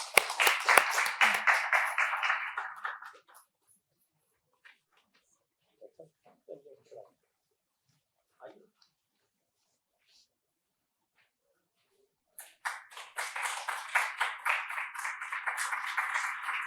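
An audience at an IIT Delhi health series session claps in a dense round of applause, fading out after a few seconds, then swelling again after a quiet pause with a few faint sounds.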